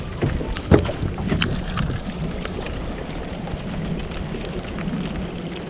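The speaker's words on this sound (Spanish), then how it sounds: "Metidos en medio de la tormenta" Heavy rain and wind batter a small fishing boat at sea off Isla Uvita, Limón, Costa Rica, a steady broadband wash with a few sharp knocks near the start.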